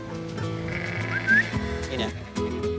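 Sheep bleat repeatedly at close range while a Rottweiler herds them into a circle, wavering calls overlapping with voices and a short whistle-like tone in the middle.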